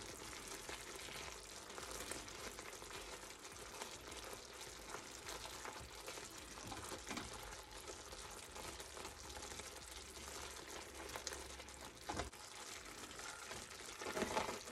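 A pecan praline sugar mixture boils on a stovetop with a continuous, faint bubbling hiss that stays even throughout, and a small knock or stir sounds near the end.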